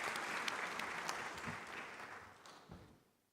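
Audience applause at the Afreximbank Annual Meetings 2023 conference in a large hall, a steady wash of clapping that thins out and fades away toward the end.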